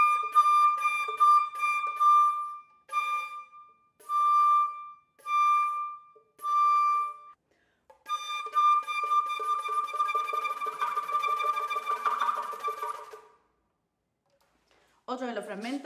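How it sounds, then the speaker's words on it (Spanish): A single note is played over and over with different fingerings, its tone colour shifting each time: short separate notes first, then a rapid, trembling stretch of the same pitch, solo and close, with a brief voice right at the end. "el bisbigliando es una misma nota tocada con diferente digitación"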